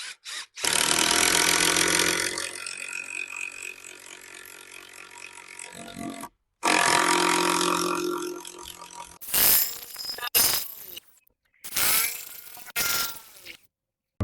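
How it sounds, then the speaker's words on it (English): Power drill boring a pilot hole through timber sleepers with a bolt used as the bit, in long loud whirring bursts broken by short pauses, then several shorter stop-start runs near at hand. "we're going to try and drill through with this bolt to sort of pilot drill it first"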